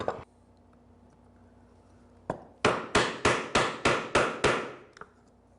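A chisel chops waste from hard maple, starting with one sharp strike, then a pause, then a quick even run of about seven loud, close, cracking blows.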